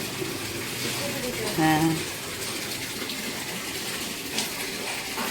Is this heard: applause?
no